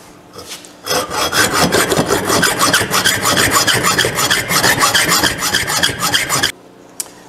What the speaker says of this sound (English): You don't have to cut all the way through those bolts